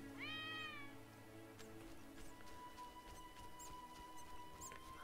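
A cat in the video game The Witcher gives a clear rising-and-falling meow near the start, over a quiet game soundscape with faint tonal music and small clicks.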